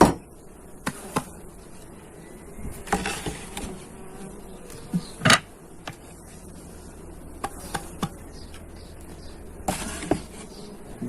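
Honeybees at a horizontal lying hive buzz faintly and steadily in the background, with scattered clicks and knocks of frames being handled nearby and no talk.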